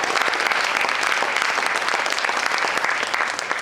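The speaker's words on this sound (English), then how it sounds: "Let's give them a big hand." An audience at a Coconut Grove Players show in Canton, Georgia, breaks into loud, continuous applause, dense clapping that holds steady throughout and tapers slightly at the close.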